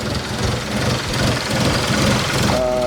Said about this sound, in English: it kind of still has a rough idle, but not the worst thing that I've seen